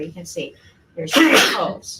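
A single loud, breathy sneeze bursts out near the middle of a live nursing-assistant classroom session, surrounded by an instructor's close speech before and after.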